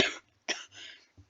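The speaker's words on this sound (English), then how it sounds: "Just had a little cough." Someone gives a few quick, moderately quiet coughs close to the microphone, each ending with a brief throaty tail, with no speech.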